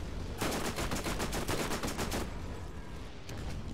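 A rapid burst of automatic gunfire from a new weapon in the video game Borderlands, loud, evenly spaced shots for about two seconds, then fading into game ambience.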